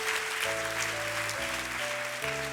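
A church congregation applauding in a steady, dense wash of clapping, with sustained organ or keyboard chords playing underneath throughout.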